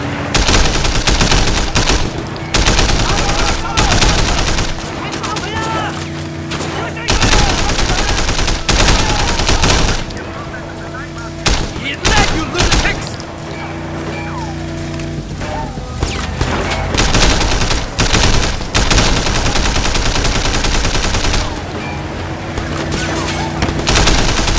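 Sustained gunfire from a shootout in the video game Sleeping Dogs, with rapid automatic bursts and booming shots layered over a constant loud engine-and-action din, continuous for about twenty-five seconds.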